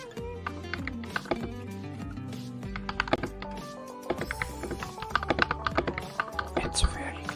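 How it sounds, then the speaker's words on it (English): Typing on a Royal Kludge RK96 mechanical keyboard fitted with RK linear switches: a fast, steady run of sharp keystroke clacks and thocky bottom-outs, close and clear, with some faint background music beneath. "The RK96 comes with RK linear switches, and that's how it sounds."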